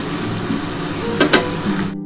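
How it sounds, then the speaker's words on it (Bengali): Onion and tomato frying in hot oil for a prawn malai curry: a loud, continuous close sizzle with a couple of brief scraping stirs, and no talking. "ভালো করে ভেজে নেবো এটা ভালো করে একটু ভেজে নিই"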